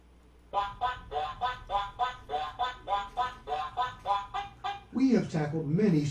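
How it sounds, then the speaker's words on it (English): Ducks quack in a rapid, evenly spaced series of about a dozen nasal calls close to the microphone, then a louder, rougher burst of squawking at the end. "Do you love all the quacks in the background? Quack, quack, quack."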